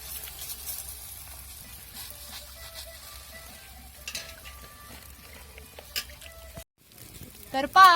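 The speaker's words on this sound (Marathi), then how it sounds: "आता दुसऱ्या साईडला पण तेल लावून असे भाजायला टाकलेलं आहे" A cabbage paratha fries in oil on a pan, a soft steady sizzle close by with light scraping and a few clinks of a utensil, ending in a brief louder clatter.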